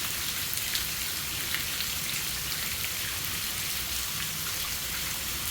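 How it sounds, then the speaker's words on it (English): Sudden heavy rain pours down steadily onto a freshly cut yard outdoors, a dense continuous hiss of drops hitting the ground and surfaces, close and loud throughout with no talking. "that rain came out of nowhere"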